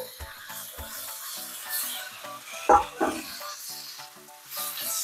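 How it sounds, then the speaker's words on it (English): Onions land in a hot pan with a sudden burst of sizzle, followed by shorter flare-ups. A soft background tone continues underneath, and the sizzling stays moderate and close. "Lower the heat, throw the onions in."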